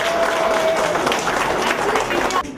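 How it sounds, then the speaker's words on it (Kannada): Children and ladies at a school batch birthday get-together applaud Vinyas for collecting more stars; a moderate burst of mixed clapping and crowd noise runs throughout, then thins out at the end. "And a big round of applause for Vinyas for collecting more stars"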